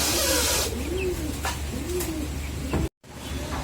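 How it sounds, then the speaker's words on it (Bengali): Chinese teddy pigeons coo in a series of soft, rising-and-falling calls, several near coos in a row over a steady low background hum, with a brief dropout near the end. "এটাও চীনা টেডি কবুতর।"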